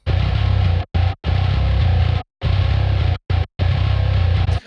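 Bass guitar riff through a compression plugin in choppy bursts with sudden gaps, the tone dense, even and heavily compressed at low and top end, with a fuller low end and steady level.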